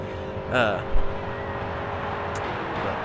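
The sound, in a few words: race car engine in NASCAR video game (2014 Daytona 500)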